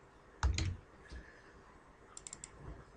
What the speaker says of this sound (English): So if I just start typing